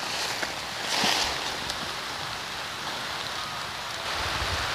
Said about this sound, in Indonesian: mohon maaf ini posisi sekarang di tempat saya lagi turun hujan